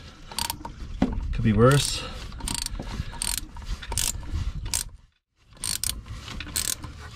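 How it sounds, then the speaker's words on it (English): A ratcheting wrench working on the oil filter adapter of a Jeep XJ 4.0 makes repeated bursts of rapid clicking, close and fairly loud. A brief silence falls near the fifth second, and someone briefly speaks. "ratcheting wrench is definitely easier in this spot until you drop it"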